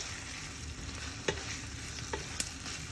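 Ground spice paste with turmeric for chicken biryani sizzles steadily while it is fried in a pan, with a few sharp scrapes and clinks of a stirring utensil and no talk.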